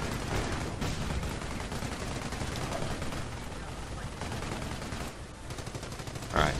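Dense, continuous bursts of machine gun fire and explosions in a Company of Heroes battle fill the mix at steady volume, with faint voices underneath.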